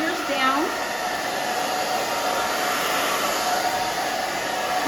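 A handheld blow dryer runs steadily and close while short curly hair is dried into a spiky pixie cut, with a brief pitch shift near the start as the airflow is moved.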